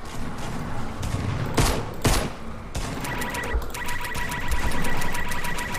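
Assault rifle gunfire in Fortnite rattles in loud, dense bursts with overlapping shots and sharp individual cracks, close and continuous, with no talking.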